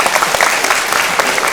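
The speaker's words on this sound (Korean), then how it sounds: "잠깐 박수를 보내드려도 되지 않을까요?" An audience at a national assembly suicide-prevention forum and international seminar applauds with steady, dense clapping that fills the room, close and loud, with no breaks or talk.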